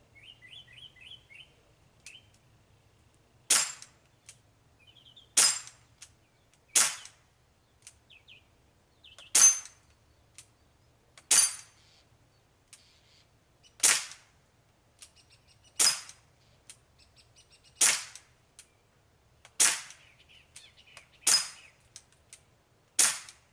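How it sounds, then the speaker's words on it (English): A Crosman C11 CO2 BB air pistol fires about a dozen sharp cracks at uneven intervals of one to two seconds, each shot sounding alone and clearly, with faint bird chirps in the quiet background between shots. "all in all, I mean, it's not a bad little CO2 air pistol"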